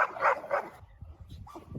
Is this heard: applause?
no